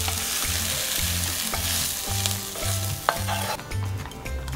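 Beaten eggs are mixed with seasonings for a preserved radish omelette, making a steady rhythmic beating and clatter in the bowl over a constant hissy background, close and loud.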